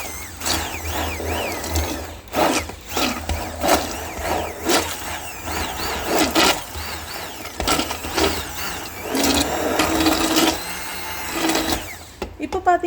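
A hand blender lightly mashes onion and garlic in a green mango radish sambar, whirring in short, uneven bursts close by while a person talks over it.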